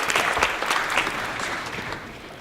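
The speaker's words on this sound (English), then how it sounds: "So give yourselves a round of applause." An audience at an evening Challenge Day presentation breaks into warm applause, a steady wash of many hands clapping that slowly softens toward the end.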